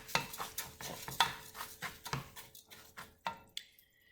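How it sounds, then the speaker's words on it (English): Spanish rice stirred in a pot over high heat: a quick run of scraping, clinking spoon strokes against the pot with a faint sizzle, close up and with no voices. "I'm just stirring it because it is on a high heat"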